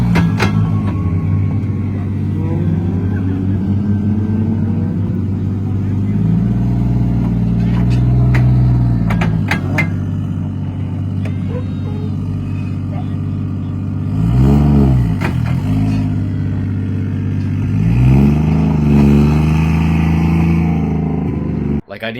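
A car with a broken differential drives close by: a loud, steady engine drone with rev rises and drops, overlaid with irregular clunks and mechanical noises throughout.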